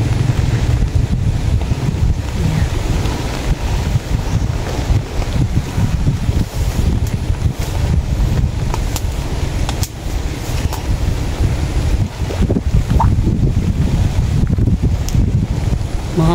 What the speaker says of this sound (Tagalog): Mahangin po.